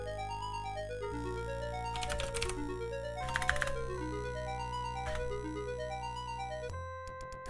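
Short clusters of computer keyboard keystrokes enter a command in Quest for Glory I, clicking in a few quick bursts over steady looping game music.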